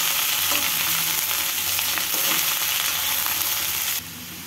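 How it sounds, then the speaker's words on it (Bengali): Food is stirred and spread around a hot frying pan, giving a steady, close sizzle with scraping stir strokes throughout that drops slightly quieter near the end. "এবার আমি এটাকে ভালো করে নড়িয়ে ছড়িয়ে দেব।"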